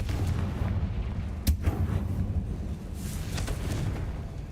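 A Confringo fire spell explodes in Hogwarts Legacy with a single sharp blast, set against a dense rumbling low-frequency game ambience that continues around it.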